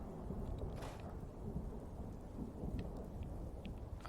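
Rain and a low rumbling thunderstorm in the survival game Post-Fallout Factotum, a steady close downpour with deep continuous rumble and faint scattered drips.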